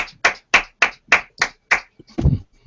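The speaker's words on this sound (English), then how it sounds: "They clap at him." A group of people clap their hands at a man. Seven sharp, evenly spaced claps ring out close and loud, followed by a short muffled flurry of softer hand sounds.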